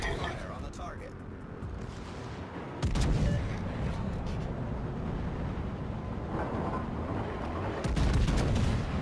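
Naval artillery fire in World of Warships, with heavy booming salvos hitting abruptly and followed by long rumbling decay, loud and close, while a voice speaks during it.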